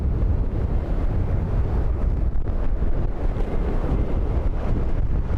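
Storm wind roars steadily at Dublin Airport, buffeting the microphone with a dense, continuous low rumble and constant gusting, loud and with no voices.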